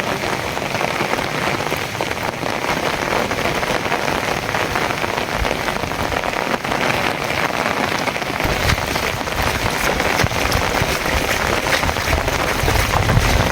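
Heavy rain pours steadily on Kodinar town, a dense, loud, unbroken hiss of drops hitting surfaces throughout, with no voices.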